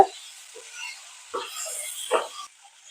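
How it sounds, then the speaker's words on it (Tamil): Tomatoes sauté over a high flame, giving a soft sizzle with a few scraping stirs of a spoon in the pan, followed by quiet near the end. "இப்போ இந்த டொமேட்டோ வந்து நல்லா சாஃப்ட் ஆகணும், வெந்து வரணும், அது வரைக்கும் நல்லா வதக்கி விடுங்க."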